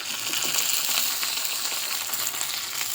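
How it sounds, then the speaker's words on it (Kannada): Dense, bright sizzling and crackling of mustard seeds, curry leaves, onion and chillies tempering in hot oil, a constant close hiss throughout without any voices. "ಸಾಸಿವೆ ಕರ್ಬೆ ಈರುಳ್ಳಿ ಒಂದು ಎರಡು ಮೆಣಸಿನ ಹಾಕಿ ಒಗ್ಗರಣೆ ಹಾಕ್ತಾಯಿದ್ದೀನಿ"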